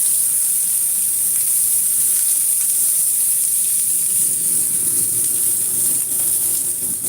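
Onions frying in a hot pan give a steady, fairly loud hiss and sizzle with no break, a constant crackling wash with no voices over it.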